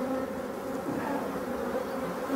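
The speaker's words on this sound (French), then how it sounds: "Une abeille noire de la forêt que tout le monde connaît" Black forest honey bees at an orphaned hive drone in a dense, continuous close buzz, steady and loud with a sustained hum throughout and no voices.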